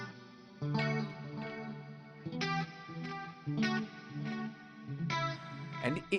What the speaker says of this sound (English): this helps a lot to get the stereo sound, because the delay is not synchronized perfectly, the left and right, and create a big separation